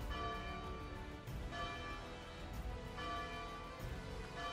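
Heavy bells ring in the survival video game ARK Ascended, a dense, resonant peal with overlapping strikes that sustain and blend into a continuous metallic wash.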